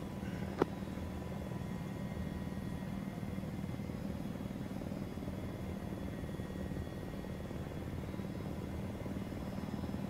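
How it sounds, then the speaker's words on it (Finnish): An Arma 3 helicopter descends into a field, its rotor and turbine a steady, loud, droning whir that holds throughout, with a brief click near the start and no voices. "Mä lasken tää kopteri säästääkseen bensaa."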